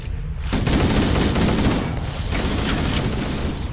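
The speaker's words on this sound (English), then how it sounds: "Oh, that's a grenade." Gunfire and a grenade in Halo CE, a dense burst of rapid shots and heavy blasts erupting after a brief quiet start and continuing loud and chaotic throughout.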